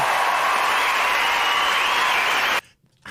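A dense, loud wash of crowd roar and applause fills the air continuously, then cuts off abruptly into near silence.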